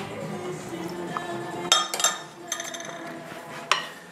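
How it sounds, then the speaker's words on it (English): Lumpy honey cake batter being whisked in a bowl: brisk metallic clinks and taps of the whisk against the sides, irregular and close, with several sharper knocks. "I'm going to take the whisk on it."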